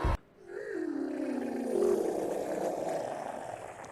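A chaos servant monster in the horror game Clea lets out a monstrous, guttural roar that swells and drags on for several seconds, growling and sliding in pitch, fairly close with no talking.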